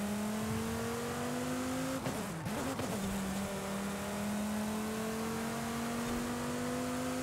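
Car engine racing steadily around the Vista Del Mar circuit in Forza Horizon 5, a sustained near whine of high revs that dips briefly at a gear shift or braking point before climbing and holding again, with no voices over it.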